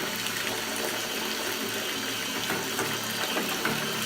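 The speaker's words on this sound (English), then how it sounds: "hot water going in" Hot water pours steadily into a container of salt while making aircrete foam, a continuous broadband splashing rush that stays close and even throughout, with no voices.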